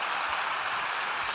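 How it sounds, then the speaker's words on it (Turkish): Steady applause from a crowd at a talk on digital transformation fills the moment, dense and even with no voices. "Alkışlar Özgür Akın için."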